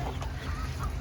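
A Silkie rooster clucks close by in a short, loud burst of throaty calls over a steady low background rumble.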